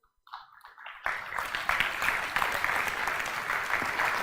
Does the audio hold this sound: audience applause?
yes